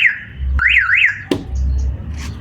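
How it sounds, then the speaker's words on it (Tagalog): Car alarm chirping as a car locks, a warbling electronic chirp followed by a sharp click, loud and close with no talk. "Naka-alarm pa."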